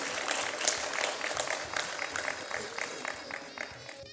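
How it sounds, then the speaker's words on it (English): Audience applause at a Pakistani-Swiss cultural evening at the Alhamra Art Council in Lahore, a dense, steady wash of clapping from a full hall that holds for about four seconds with small swells. "A big round of applause, ladies and gentlemen."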